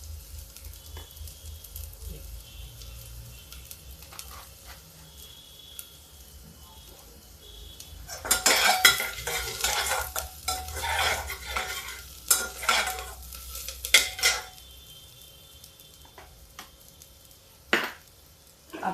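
Asafoetida and crushed carom seeds hit hot oil in a pan for a jackfruit curry, giving a sudden burst of sizzling with scraping stirs and spoon clatter that then fades back to quiet.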